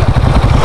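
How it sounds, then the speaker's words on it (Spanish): A Kawasaki KLR 650 motorcycle idles close by with a steady, rough low-pitched engine rumble and a little mechanical clatter throughout the short moment. "Una KLR 650, chulada de moto."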